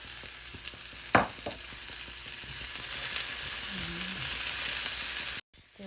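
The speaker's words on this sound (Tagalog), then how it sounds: "Stir fry natin." Napa cabbage stems stir-fried with garlic and green onions in a hot pan, a steady sizzle with a sharp clatter of the spatula early on and scraping stirs, ending abruptly.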